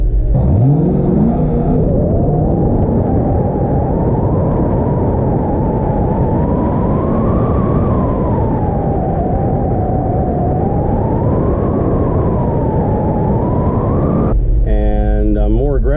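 A pro-touring 1981 Camaro Z28 on a racing run roars steadily and loudly, close by, with the engine pitch rising and falling through the run and no talk.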